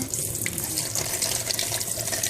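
Tap water runs steadily into a sink while an item is washed, a close, continuous splashing gush with slight surges, heard alone without talk.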